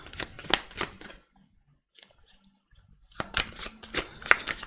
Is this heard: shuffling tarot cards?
yes